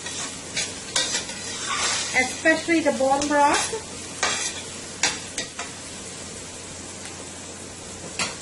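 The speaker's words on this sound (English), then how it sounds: "so my onions frying up nicely there." Onions sizzling and frying in broth in a pot for a pigeon peas cook-up, with stirring clatter and brief scraping, while a person speaks briefly in the middle.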